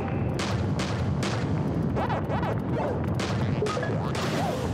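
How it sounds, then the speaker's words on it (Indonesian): Repeated explosions in the video game Pac-Man World 3 burst out as loud, crashing booms, one after another over a busy, continuous bed of game music and effects. "waduh, meledak lagi deh."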